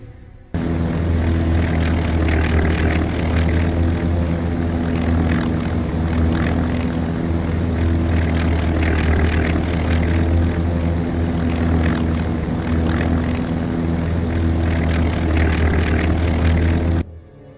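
A propeller seaplane engine from the naval strategy game Task Force Admiral drones steadily and loudly, a constant low throbbing hum that starts and stops abruptly, with no talk.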